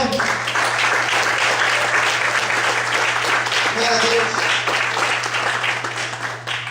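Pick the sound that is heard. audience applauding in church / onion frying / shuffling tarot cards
audience applauding in church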